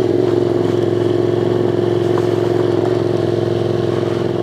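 A naked motorcycle drones steadily, recorded from the rider's point of view. The close engine note stays loud and constant throughout, with some mechanical clatter and no talking.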